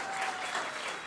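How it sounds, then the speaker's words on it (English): An audience claps together in a dense, steady burst of applause, fairly loud and even for the whole moment. "And also give a big round of applause to Joseph."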